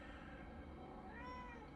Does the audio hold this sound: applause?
no